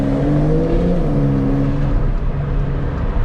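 A Porsche 911 Carrera 4 GTS in Sport Plus mode, its engine idling with a deep, steady burble that rises briefly in pitch and then settles back.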